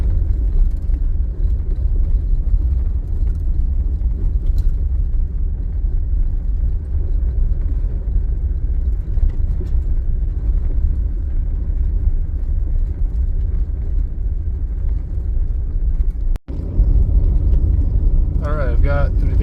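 Continuous low road rumble from inside a car driving through forested country in Idaho, steady and close, with a short knock near the end and faint voices under the drone.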